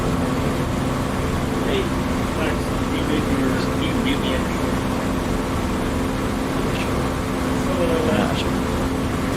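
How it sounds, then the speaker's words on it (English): An aircraft engine in a flight simulator game: a steady, loud, continuous drone holds throughout, with faint higher tones and a few brief knocks over it. "I can hear my engine."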